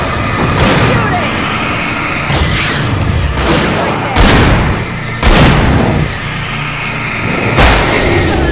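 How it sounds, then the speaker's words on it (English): Gunfire in the game Alan Wake, several loud sharp shots and booming bursts spaced a second or two apart over a rumbling background, with voices shouting between them. "Shooting!"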